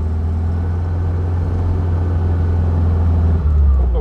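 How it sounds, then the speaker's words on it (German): The engine of a 1958 VW Rometsch Lawrence Cabriolet drones steadily in a low, throaty hum, close and constant, with a slight rise toward the end as it revs. "Der typische VW-Motor, so wie man ihn kennt, ihr könnt das ja hören, marschiert hier wunderbar nach oben."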